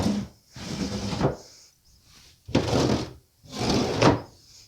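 Wooden cabinet drawers in a tiny house build slide in and out three times, each a fairly loud, close rasping run of about a second with pauses of quiet between.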